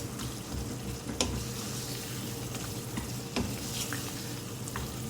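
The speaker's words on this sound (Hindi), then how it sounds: "मैश भी करती जाऊंगी टमाटरों को इस तरह से मैं।" Tomatoes with coriander powder and spices roast in a pan while being mashed, a continuous sizzle broken by sharp scrapes and taps of the spoon against the pan.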